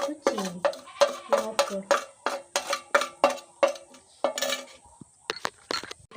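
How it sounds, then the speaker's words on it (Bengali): A spoon clinks and scrapes rhythmically against a bowl while mixing spiced potato pakora batter with chopped garlic, ginger, chili, turmeric, cumin, salt and sugar, in steady repeated strokes up close, pausing briefly near the end. "এটাকে আমি একটু প্রথমে চামচটা করে মিশিয়ে নেব।"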